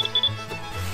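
A laser level detector at a yurt foundation build site gives a few short, high electronic beeps in quick succession, then falls quiet.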